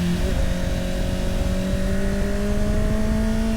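A Honda CBR650R motorcycle engine revs loud and close, its steady drone slowly climbing in pitch for a few seconds with no talk over it.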